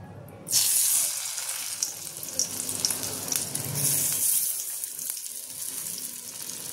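Close, steady frying sizzle in an iron wok, with a soft hiss rising as stuffed bitter gourds drop one by one into hot oil and faint scraping underneath.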